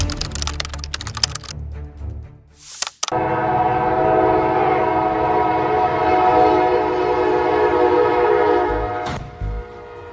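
A train approaches at speed and sounds a long, loud horn that holds steady for several seconds, after a burst of rattling, clattering noise.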